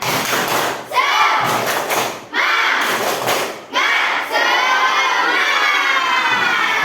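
A group of elementary school children in a classroom does a rhythmic spirit clap and cheers loudly, their shouts rising in waves between sharp clapping beats.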